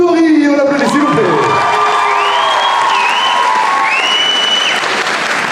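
At the Mang'Azur 2023 cosplay contest, a crowd claps and cheers for jury member Kotori, with loud sustained applause, rising whoops and high shouts layered on top.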